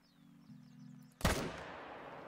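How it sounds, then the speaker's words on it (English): A single sharp M1 rifle shot in the hunting game theHunter: Call of the Wild cracks out loudly after quiet ambient game sounds, then trails off in a fading echo. "Let's see if we can actually drop him with the M1 quickly from here"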